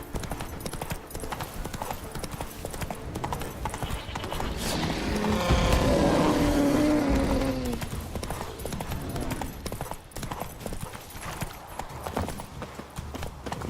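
Horse hooves galloping in The Witcher 3, a continuous rapid clip-clop, with a rushing swell of wind-like game sound in the middle before the hoofbeats carry on.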